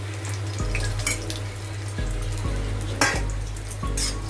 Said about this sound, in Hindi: काजू को थोड़ा लाल करके फ्राई करके लेना है।